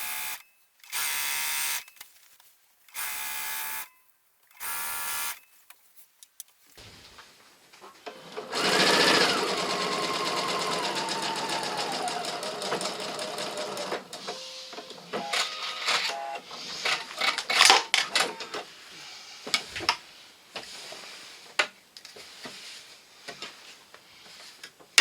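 A sewing machine runs in three short, even bursts, then a longer stretch of uneven stitching as fabric long edges are joined right sides together for a quilt top, close and loud with no talking.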